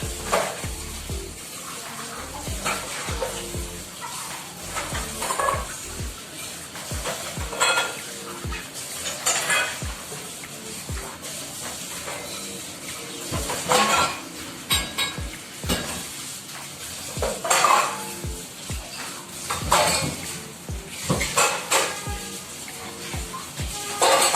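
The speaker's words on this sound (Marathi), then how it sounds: "चालू होतं माझं भांडे घासायचं काम इकडं" Metal utensils are scrubbed and washed at a sink, with repeated sharp clanks and clatters of pots and plates against each other, running water and scrubbing in uneven bursts, close by.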